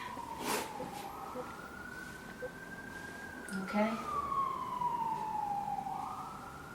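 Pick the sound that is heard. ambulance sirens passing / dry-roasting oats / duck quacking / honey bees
ambulance sirens passing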